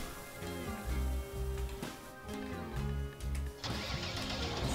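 A tractor engine starts up in Farming Simulator 19, with a low, pulsing mechanical chug that rises and falls in steady rhythm and a louder burst near the end.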